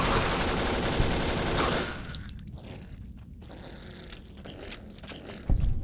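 Dense, rapid automatic fire from a grease gun in the video game Fallout New Vegas, loud and continuous for about two seconds, then fading into quieter scattered crackles and a late burst.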